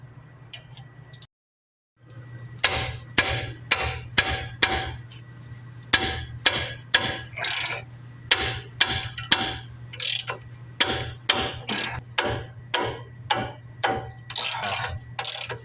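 A 19 mm ratchet works rusty front brake caliper bolts loose on a 2005 Nissan Frontier, giving a steady run of sharp, close clicks in quick rhythmic bursts over a low constant hum, with a brief silent pause near the start.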